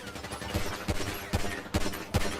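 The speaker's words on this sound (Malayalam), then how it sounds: "നീ നിലത്തേക്ക് പൊട്ടിച്ച. നിലത്തന്നെ ഞാൻ പൊട്ടിക്കുന്നതാ." A burst of gunshots fired at the ground, about five loud sharp reports spaced roughly every half second, each ringing out briefly over background noise.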